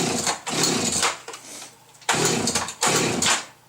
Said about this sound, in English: I'm going to go ahead and just fire up my chainsaw.